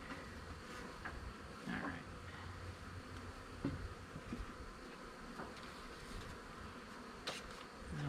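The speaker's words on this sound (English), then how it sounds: "This one got a whole bunch of bees on the back of the board here" Bees buzz steadily around an open hive during an inspection, a continuous close droning hum with a few brief louder passes and handling clicks; a voice speaks briefly.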